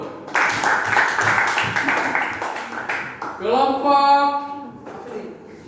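A classroom group named Kasih gets applauded by classmates, a dense burst of clapping from many hands that fills the room, then gives way to a voice and excited chatter near the end.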